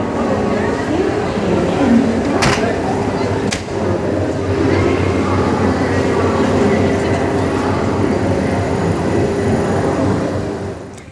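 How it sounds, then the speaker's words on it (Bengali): A Vande Bharat express train pulls into a railway station, its steady rumble filling the platform with a couple of sharp clanks, while people talk nearby under the noise. "আর তারপর হঠাৎই অ্যানাউন্সমেন্ট, আর বন্দে ভারত আমাদের সামনে।"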